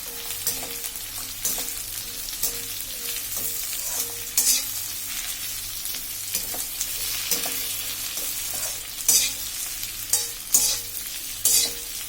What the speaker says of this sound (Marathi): व्यवस्थित सर्व साईडने हलवून घ्यायचं जेणेकरून सर्व जे आपण काप केली त्यांना छान तेल लागलं पाहिजे